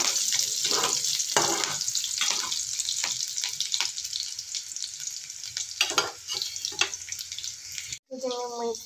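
Garlic, green chili, onion, tomato and coriander leaves fry in a pan for a wheat-flour (atta) breakfast pasta, a close, continuous sizzle broken by repeated scraping stirs, with a voice speaking briefly at the end.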